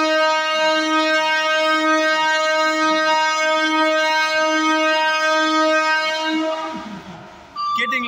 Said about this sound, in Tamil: அப்பா காதே கொய்யுங்குது, அவ்வளோ ரொம்ப நாள் கழிச்சு இந்த ஹாரன் சவுண்டை பக்கத்தில் கேட்கறனால